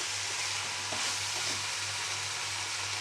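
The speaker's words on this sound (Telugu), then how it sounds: "పసుపుని వేసి ఇలా బాగా కొద్దిగా ఫ్రై చేసుకోవాలి" Turmeric frying in a pan for a broad bean fry, a dense, even sizzle held close and steady for the whole stretch with a low hum beneath and no talk.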